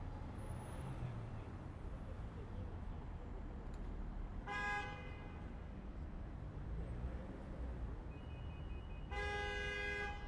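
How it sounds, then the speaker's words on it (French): Car horns honk in two long, loud blasts at a busy Brussels square at night, standing out over a steady rumble of city traffic. "Ça klaxonne dans tous les sens."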